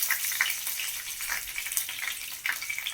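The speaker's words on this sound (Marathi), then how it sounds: "आता आपली मोहरी तडतडली आहे चांगली." Mustard seeds and curry leaves sizzle in hot oil with a loud, bright, continuous crackle that pops in small bursts up close.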